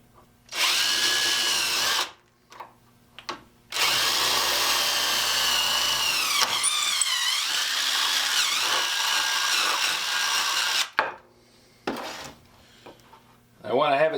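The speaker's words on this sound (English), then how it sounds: "I got 1 more to drill down here for the camera mount." A power drill boring a hole for a camera mount on a homemade camera boom whines loudly in several long bursts, stopping and restarting with short pauses, close by and alone.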